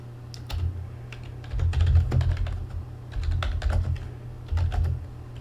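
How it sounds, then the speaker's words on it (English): Quick, irregular clatter of keys on a computer keyboard during a game-show episode, with bursts of rapid keystrokes and brief pauses, close and without talk. "I am typing to somebody."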